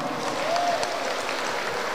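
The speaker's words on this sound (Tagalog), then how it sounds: "Palakpakan na may hiyawan po." Applause from a crowd at a ceremony handing out e-titles and farm machinery, a steady even patter of clapping mixed with faint cheering, moderately loud and sustained, with no speech over it.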